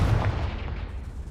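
Confringo fire spell from the video game Hogwarts Legacy, a single loud booming blast with a rumbling tail that fades over about a second.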